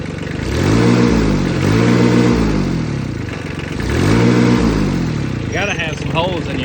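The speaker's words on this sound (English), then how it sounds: "She's just a little 3-cylinder diesel, 13 horse." Small 13-horsepower three-cylinder diesel tractor engine with a leaky exhaust, revved twice in rising and falling surges over a steady idle, close by, with a brief voice near the end.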